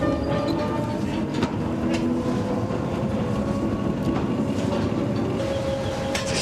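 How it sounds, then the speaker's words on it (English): Underground mine train carrying miners more than 800 metres below the surface, with a steady loud rumble and rattle of wagons running continuously, and a voice speaking briefly over it. "the miners board a train that travels a further 4 miles into the dark."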